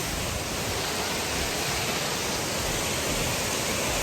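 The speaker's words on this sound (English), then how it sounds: "this is another waterfall" A waterfall on a hiking trail roars as a steady, broad, unbroken rush of falling water, close and constant throughout with no voices.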